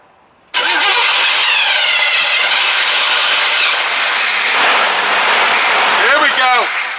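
A square body short bed truck engine cranks over and catches, then runs loud and steady at close range, held at a raised idle with occasional revving, while people talk nearby.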